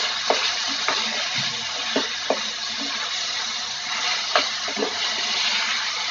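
Chicken being mixed with salt in a pan for achari chicken, giving a steady wet sizzle with scattered short scraping and stirring clicks throughout, no voices.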